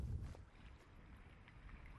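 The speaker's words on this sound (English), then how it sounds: "On a brisk, gray, windy morning, we paddle up to the 70-foot near Mirna" Paddling a small boat across a brisk, gray, windy stretch of the Mediterranean off Brač, Croatia, with wind buffeting the microphone and soft water sloshing; a louder gust opens, then a steady low rush continues.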